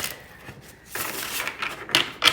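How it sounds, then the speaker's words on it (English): A new deck of oracle cards is shuffled nearby, soft riffling and sliding with a couple of sharper card snaps toward the end. "I'm going to give it a good couple shuffles since it's new"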